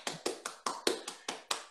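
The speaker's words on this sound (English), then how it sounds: "I like it when I clap for you," Eight sharp hand claps in a steady, moderately quick rhythm, close by and fairly soft, with no talking.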